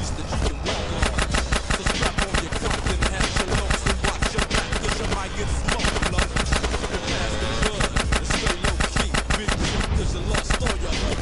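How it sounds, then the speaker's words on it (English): Rapid automatic gunfire during a Grand Theft Auto San Andreas train-chase mission, dense, sustained bursts of shots firing almost nonstop at a fast rhythm, loud and close. "Get me close, DJ! I'm about to pop these fools! Roll up on him, CJ, so I can get a shot"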